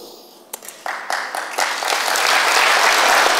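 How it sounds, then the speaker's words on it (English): Applause from an audience at a talk on a resource-based economy in London, starting with a few scattered claps and swelling into steady, full clapping from a large crowd. "You're applauding that?"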